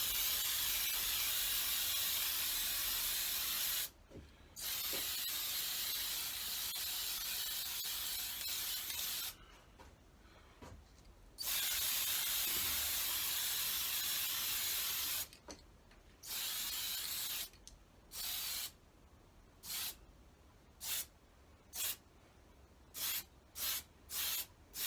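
Aerosol spray can laying a black base coat onto a P-51 Mustang model, heard as long continuous hissing bursts broken by pauses, then a run of short quick spurts toward the end, close and steady with no talking.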